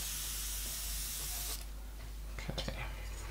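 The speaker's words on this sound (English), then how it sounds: "Just spray through." An airbrush sprays thinned Citadel Air paint in a loud continuous hiss that cuts off partway through, followed by quieter handling noises and small clicks.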